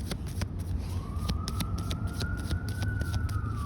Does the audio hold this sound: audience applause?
no